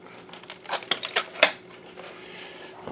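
A loose plastic piece rattles inside a BenQ W1070 projector as it is moved, making a few quick close clicks and clatters that fade into a faint hum.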